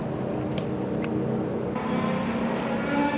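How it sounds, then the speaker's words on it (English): Road traffic noise beside a pond near a Walmart, a continuous low, distant rumble of passing vehicles with a few faint clicks over it. "You can definitely tell you're around a Walmart with this road noise."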